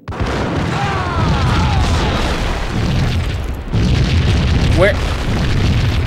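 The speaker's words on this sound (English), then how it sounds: "Shit's just randomly exploding." Explosions go off in the shooter game Max Payne, a loud booming rumble with a sudden break and renewed blast near the middle, while someone speaks briefly over it.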